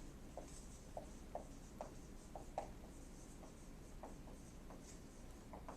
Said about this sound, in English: you start off with a piece of paper and you just write your name.